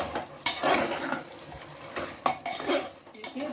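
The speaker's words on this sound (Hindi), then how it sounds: "लगातार चलाते हुए फ्राई करिए।" Mutton biryani masala being stirred and fried in a pan: a spoon scrapes and clanks against the metal in irregular strokes, with a light sizzle beneath, close and moderately quiet.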